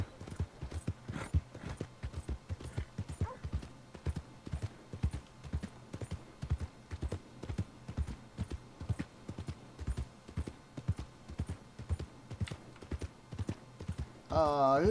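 Horse hooves clip-clop in a steady trotting rhythm through the whole stretch in Red Dead Redemption 2. The hoofbeats are close and even, with a brief whinny near the end.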